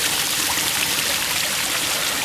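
Water spills steadily over a garden pond waterfall in a backyard water garden, a continuous close splashing rush with no breaks and no voices.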